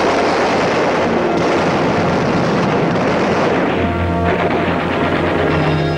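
WWII artillery fire in Burma, a continuous loud rumbling barrage of booms and crashes blending into a dense roar, with a low droning tone emerging in the latter part.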